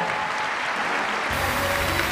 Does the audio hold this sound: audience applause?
yes